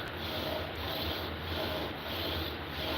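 Steel chisel rubbed flat against a sharpening stone, a steady continuous scraping rasp with slight rhythmic strokes, close and fairly quiet, with no talking.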